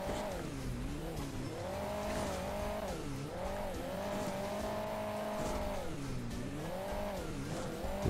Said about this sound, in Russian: Так, у нас опять байк.